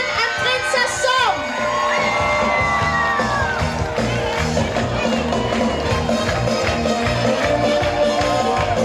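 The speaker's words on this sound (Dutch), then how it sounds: "Mogen ik een groot applaus voor ons nieuw prinsenpaar van 2019." A crowd cheers, whoops and claps for the newly presented carnival prince couple, Prince Sten and Princess Sam, at a 2019 Limburg carnival café event, with music and children's shouts mixed into a loud, continuous din.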